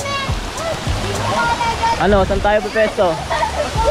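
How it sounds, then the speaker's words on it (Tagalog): Tagandaw waterfall, the third layer of Binayoyo Falls in Antipolo, Rizal, a steady rush of falling water in the background beneath people talking nearby. "Dito na yung Tagandaw na falls"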